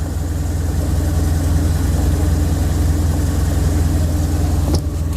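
A used car's engine idles smoothly with a steady, even low rumble, close and constant for several seconds, with a brief shift near the end.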